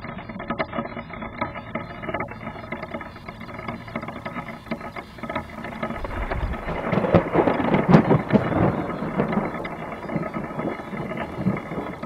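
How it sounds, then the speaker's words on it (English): Heavy rain pounds a wooden chickadee nest box, a loud, dense drumming that swells into a stronger downpour midway and holds steady, heard from inside the box. "The raindrops hit the box with loud thuds."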